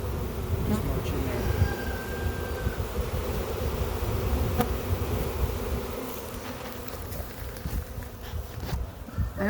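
A swarm of Italian honey bees buzzes steadily and densely throughout, a continuous close drone being caught and marched into a hive outdoors in spring.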